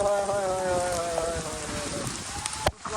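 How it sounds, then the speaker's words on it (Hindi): Heavy rain pours down steadily and loudly at close range, a dense continuous hiss of drops with a brief sharp knock near the end; no one speaks during it. "बहुत तेज बारिश हो रही है"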